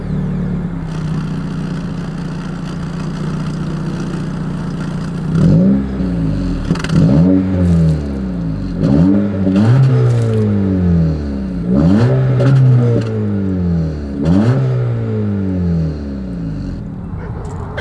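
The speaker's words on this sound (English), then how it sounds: "As always, here is that exhaust clip." A 2023 Acura Integra with chrome exhaust tips idles steadily, then its engine is revved about five times in quick succession, each blip rising sharply and falling back, loud and close with no talking.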